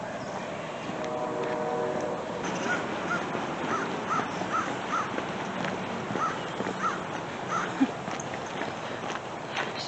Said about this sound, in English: There's a bunch of crows waiting for me